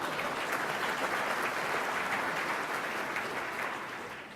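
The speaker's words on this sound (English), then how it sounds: "Bobby, we can give him a round of applause" Audience at a business leadership event giving a round of applause, a steady, fairly soft wash of clapping that holds evenly and tapers slightly at the end.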